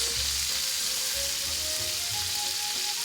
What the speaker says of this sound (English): Now you're going to take a little bit of butter and put it right onto the pan. Let the butter melt